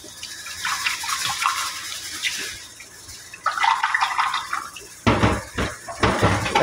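Rice washed by hand in a metal pot for Saudi hamam kabsa, with water sloshing and grains scraping against the sides in bursts, and a louder clatter of pot and water near the end; no talking.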